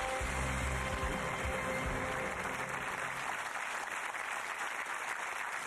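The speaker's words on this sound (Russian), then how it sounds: "Аплодисменты Крейгу!" Studio audience applause on the game show Who Wants To Be A Millionaire? (UK), a dense wash of clapping that holds steady, with a brief musical tone fading underneath at the start.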